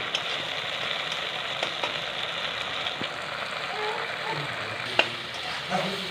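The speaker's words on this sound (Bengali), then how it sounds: "ভালো করে ডিমটা নেড়ে চেড়ে ভেজে নিয়েছি।" An egg fries in a pan for an atta noodles recipe, a steady close sizzle with scattered scraping stir clicks and one sharper knock near the end.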